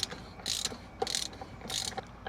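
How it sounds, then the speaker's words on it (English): A torque wrench tightens a nut on a Toyota Land Cruiser 80 Series steering knuckle, giving three rhythmic bursts of ratcheting clicks at close range with no talk. "let's go ahead and torque it down to 43"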